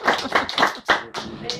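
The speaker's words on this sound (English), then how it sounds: "We can deserve a big round of applause." Brief burst of audience clapping for a volunteer called up during a magician's comedy show at a couples hotel, loud and close, mixed with voices and cheering.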